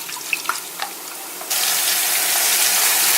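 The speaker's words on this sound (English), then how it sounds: "you're supposed to drain them and then kind of rinse them" Cooked noodles being rinsed under a running kitchen tap, a few light clinks and drips at first, then a steady, close gush of water pouring into the sink.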